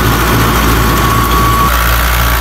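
A 2004 Fiat 640 tractor engine drives a 60-blade rotavator buried deep in the soil. A loud, close, steady diesel drone rumbles with vibration and holds constant throughout, with no voices.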